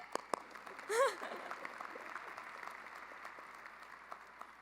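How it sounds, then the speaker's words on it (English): Faint, distant applause from a university commencement audience, a steady patter of many hands that runs through the whole stretch with no speech over it. "I mean, we deserve a clap for that"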